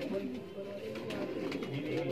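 Rampuri pigeons in a loft, soft low cooing and rustling heard close, with a voice talking over them.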